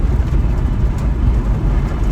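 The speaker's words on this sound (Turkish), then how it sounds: "Arka camlar kırık olduğu için biraz rüzgar sesi var." Loud, steady wind roar and low road rumble fill the cabin of a moving car with broken rear windows, a constant buffeting drone with no pauses.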